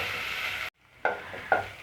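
Onions fry toward golden in oil over low gas for dal sambar, a bright sizzle that cuts out briefly and then returns with a couple of spatula scrapes, close by and without voices.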